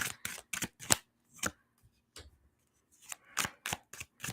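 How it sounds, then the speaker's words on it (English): A new deck of tarot cards being shuffled by hand, giving quick clusters of crisp riffling snaps separated by brief pauses, close-up with no talking. "Getting used to shuffling a new deck."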